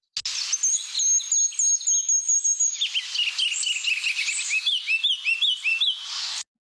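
A tiny ruby-crowned kinglet sings a loud, high, clear song: thin repeated notes at first, then a run of rapid up-and-down warbling phrases toward the end, close and alone in quiet surroundings.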